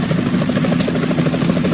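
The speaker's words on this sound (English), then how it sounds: "Is that a chopper I just heard?" A video game helicopter in Metal Gear Solid 2: rotor thumps in a steady rapid pulse with a loud engine drone, close and continuous, no voices.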